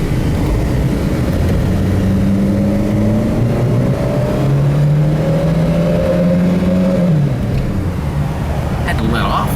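A 1985 Mercury Lynx L station wagon with a 1.9L engine driving, a steady engine drone with rising and falling pitch as it accelerates and shifts, close and loud, with a voice talking briefly.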